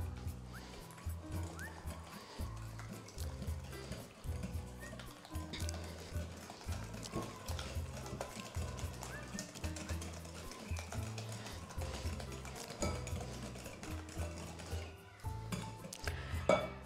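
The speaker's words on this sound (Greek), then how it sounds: "Ανακατεύουμε τα αυγά μας με τη ζάχαρη, χωρίς να το χτυπάμε." Eggs and sugar stirred by hand in a bowl for an orange cake, giving a steady rhythmic run of soft knocks and scrapes that repeat at an even pace throughout, fairly faint and close.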